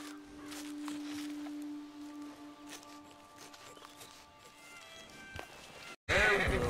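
Horse whinny from Red Dead Redemption 2, a brief loud neigh bursting in at the end after game ambience with steady tones and light background sounds.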